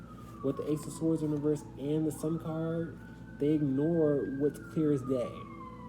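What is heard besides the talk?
sirens in the background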